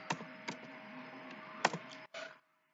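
A few quick keystrokes typing a command on a computer keyboard, sparse close clicks followed by a final key press, quiet and alone.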